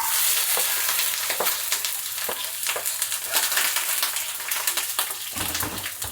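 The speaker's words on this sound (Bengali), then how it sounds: "এই দেখো পেঁয়াজ ভাজবো" Onions fry in a hot pan with a steady, dense sizzle close by, broken by the occasional scrape and stir of a utensil.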